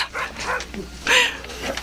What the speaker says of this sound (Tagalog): Ang mga aso.